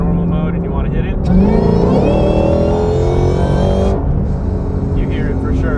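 Inside a Ford GT500 fitted with Foster's Whine mod, the engine is hit hard in second gear, a climbing supercharger whine soaring over the loud roar before the throttle lifts and it settles to a lower drone.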